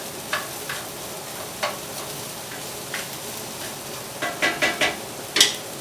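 Sausage fries in a paella pan for a seafood paella, giving a steady close sizzle broken by sharp clicks and taps of a utensil stirring against the pan, several bunched near the end.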